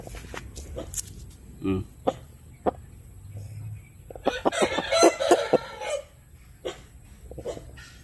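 Several short, rough coughing bursts from a sick chicken, scattered over ambient farm noise, with a louder cluster of clucks and squawks in the middle.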